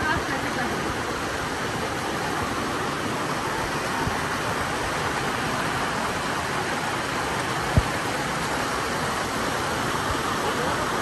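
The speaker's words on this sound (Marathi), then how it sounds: "तर खूप पाऊस आहे." Heavy rain pours at Visapur fort, a loud, steady broadband roar that fills the whole stretch without a break, with one brief knock near the end.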